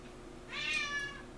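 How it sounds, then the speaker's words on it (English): One soft meow from a house cat called Star rises and falls briefly, heard faintly in a quiet indoor space with no speech. "that's my cat Star showing up to say hello"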